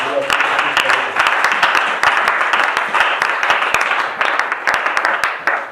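A church congregation breaks into sustained applause for the Lord, a loud, dense wash of many hands clapping with sharp individual claps, mixed with voices in the room.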